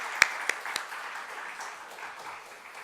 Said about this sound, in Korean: 다시 한번 우리 큰 박수로 서로 격려할까요?